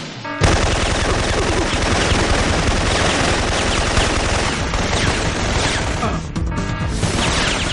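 Dense, continuous rapid gunfire from a video game mission, loud and relentless machine-gun bursts filling the whole stretch with only a brief dip near the end.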